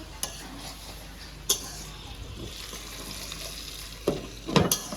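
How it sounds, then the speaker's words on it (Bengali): Chorchori, a Bengali mixed vegetable dish, fries in a pan with a steady soft sizzle, broken by a few sharp scrapes and clinks of stirring, the loudest near the end. "এদিকে চচ্চড়ি হচ্ছে"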